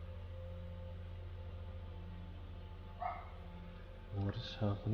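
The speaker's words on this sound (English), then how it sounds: "Dog is barking." A dog barks a few times in the background near the end, short sharp bursts rising over a steady hum from a 3D-sculpting livestream setup.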